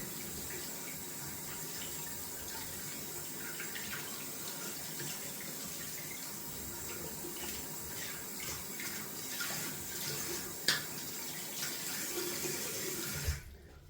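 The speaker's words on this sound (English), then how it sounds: "Just rinsing out the shave brush down there." Running tap water pours into a bathroom sink as a shave brush is rinsed, a steady close hiss and splash lasting throughout, with a couple of brief louder splashes near the end before it cuts off.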